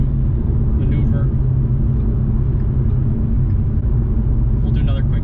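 A 2015 Mustang EcoBoost under way, heard from inside the cabin as a loud, steady low engine and road rumble that drones on without clear gear changes, with a muffled voice faintly underneath.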